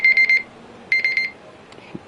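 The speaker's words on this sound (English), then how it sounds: "Forgot my alarm existed." An alarm clock rings in two bursts of rapid, shrill electronic beeping, loud and close, separated by a short pause and then silence.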